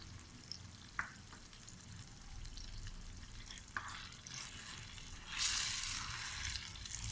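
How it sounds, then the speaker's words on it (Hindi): A spoon stirs semolina and jaggery halwa with raisins and almonds in a pan, with a steady low sizzle, occasional sharp scrapes and clicks, and a brighter hissing swell near the end. "अच्छी तरह से मिक्स करेंगे।"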